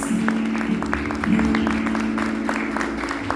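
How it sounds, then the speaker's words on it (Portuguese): A church congregation applauds for Jesus at an evening worship service, steady clapping from many hands filling the room, with a sustained musical tone underneath and a voice speaking over it. "Dê a sua melhor salva de palmas para Jesus"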